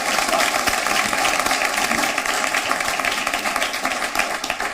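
An audience at a poetry contest during the Maha Kumbh in Prayagraj applauds a poet, with a dense, continuous wash of clapping from a large crowd lasting several seconds.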